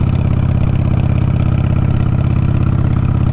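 A Harley-Davidson Sportster motorcycle engine idles loudly and steadily, its deep rhythmic thump holding an even pace throughout with no voices.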